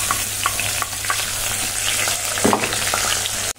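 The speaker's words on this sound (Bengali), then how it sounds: "তো আগে আদা জিরের পেস্টটাই দিয়ে দিই।" Ginger and cumin paste sizzles steadily in a hot kadai, a continuous close frying hiss with occasional stirring scrapes and spits.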